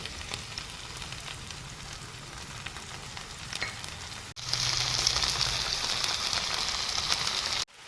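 Fish shallow-frying in oil in a pan for a masala fry gives off a steady, close sizzle that jumps louder and brighter partway through as more oil is added at the side.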